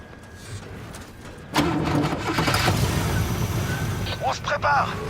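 A vehicle engine starts in Call of Duty Black Ops 3: a sudden loud crank catches partway through and settles into a steady rumbling idle with some revving, under overlapping game voices and combat noise.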